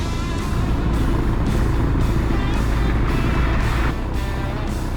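A Cessna Skyhawk single-engine plane departing runway 13 at a small airfield, a loud steady engine drone throughout, heard from inside the cabin.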